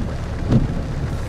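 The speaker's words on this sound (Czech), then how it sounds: "na mě teď hrozně prší" Heavy rain pours during a thunderstorm in Saxony, a dense steady hiss of falling water with a brief low rumble of thunder in the middle, close and loud, with no voices.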